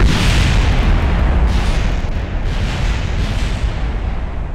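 A cluster of twenty high-output rockets launches and explodes in Kerbal Space Program, making one loud, constant thundering roar that stays close and barely eases for the whole stretch.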